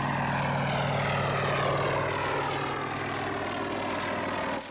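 A Sikorsky S-55 helicopter at the Warbirds Over Wanaka airshow in New Zealand, its rotor and piston engine giving a loud, throbbing drone with a steady pulsing beat that carries on without a break.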